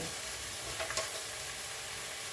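Chukka kura (sorrel leaves) drop into a hot pan with a soft, steady sizzle of frying, faint and close, with a brief stirring rustle in the middle.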